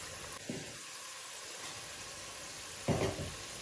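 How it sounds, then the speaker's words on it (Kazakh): Potatoes and meat frying in oil in a kazan for kazan kebab give a steady close sizzle, broken by two brief louder bursts as the food is stirred. "картошкамыз, етіміз жақсылап қуырылып алуымыз қажет"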